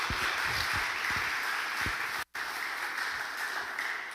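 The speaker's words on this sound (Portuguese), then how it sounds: "Você pode aplaudir a palavra de Deus?" Sustained applause from a church congregation during a sermon, a steady broad wash of clapping across the whole stretch with a brief dropout partway through.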